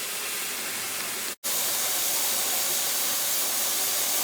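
Steam hisses steadily and loudly from a cooker of dry beans, a broad continuous rush broken by one brief gap of silence before it resumes.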